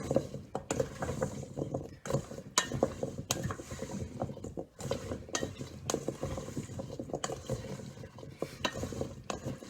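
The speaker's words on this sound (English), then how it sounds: "Now we're just going to mix this up." Butternut squash being mixed in a bowl, with repeated clinks of a utensil against the bowl and soft scraping and tumbling of the pieces, close and fairly quiet.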